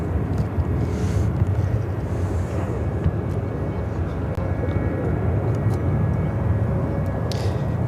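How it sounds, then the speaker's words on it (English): A Boeing 737-800 airliner taking off at Chicago O'Hare makes a steady, broad engine roar that holds loud throughout, with a voice talking faintly underneath. "Airlines 2639 taking off to San Francisco on the 737-800."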